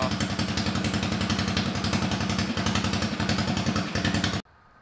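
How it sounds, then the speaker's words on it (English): A homemade mini bike revs steadily close by, its small engine clattering in a rapid, even pulse for about four and a half seconds before cutting off abruptly into quiet. "So we took the mini bike out, rode it."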